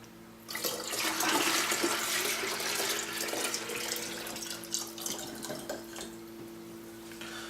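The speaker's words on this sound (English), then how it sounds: "And we will discard this water." A steady rush of water drained from hydroponic growing media pours and splashes close up for several seconds, then gradually thins toward the end.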